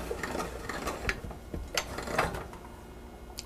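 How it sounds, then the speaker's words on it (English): A hand-cranked pasta machine's fettuccine cutter slices a fresh pasta sheet into ribbons, giving a close, quiet run of small clicking, ratcheting mechanical ticks with a steady low rumble beneath. "fettuccine cutter."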